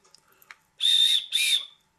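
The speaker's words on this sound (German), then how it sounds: "Eine Notfallpfeife." An emergency whistle gives two loud, shrill blasts close up, the first longer than the second, after a few faint clicks and handling noises.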